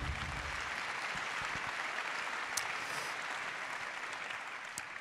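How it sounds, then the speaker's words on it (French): A crowd applauds steadily at the Pierres d'Or 2018 awards ceremony, a dense, even wash of clapping that holds at a constant level throughout. "Et on les applaudit très fort tous les 5."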